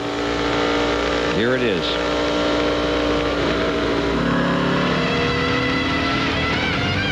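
Winston Cup stock cars roar around the track at a 1999 race, a loud continuous engine drone with one car sweeping past in a sharp pitch-bending pass, under a broadcaster's talk.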